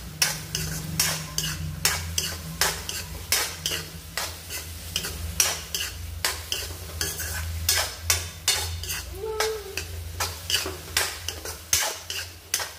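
Onions fry in a pan while a spoon scrapes and stirs them in regular strokes, with a steady sizzle underneath and no voices, all up close.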